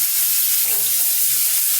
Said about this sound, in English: Now I'm gonna wash the rice until the water runs clean.